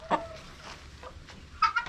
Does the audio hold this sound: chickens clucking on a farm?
yes